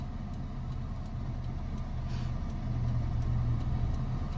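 A car reversing slowly with the clutch partly engaged and no brake: a low, steady engine hum that swells slightly toward the end, heard close with no talking.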